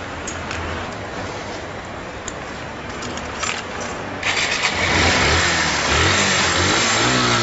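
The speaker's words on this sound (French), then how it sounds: "François, il a une petite moto." A small motorcycle engine idles and then revs up louder, a close buzzing motor sound that swells in the second half.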